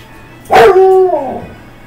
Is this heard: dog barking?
yes